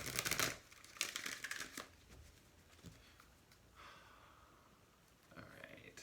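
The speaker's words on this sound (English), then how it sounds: "Let me do one more shuffle." A deck of tarot cards is shuffled by hand, with soft riffling and rustling bursts near the start and again later, quiet and close, between stretches of near silence.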